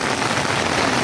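A downpour pelts a clear transparent umbrella up close, a constant loud wash of raindrops with no pauses.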